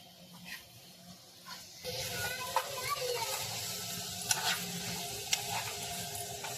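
Chicken sizzles in a pan while a utensil stirs and scrapes against it, with a few sharp clinks. A voice is heard faintly in the background.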